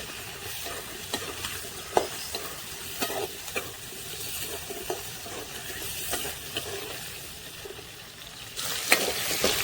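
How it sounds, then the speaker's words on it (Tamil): Dried red chillies and shallots sauté in oil for chutney, a continuous close sizzle broken by repeated scraping stirs of a spatula against the pan, no talking. "வரமிளகாய் சேர்த்துட்டு சின்ன வெங்காயம் சேர்த்துக்கலாம்"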